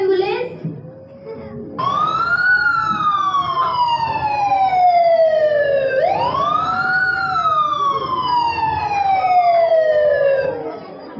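An ambulance siren wails loudly and close by in two long rising-and-falling sweeps, part of a staged drama about child marriage.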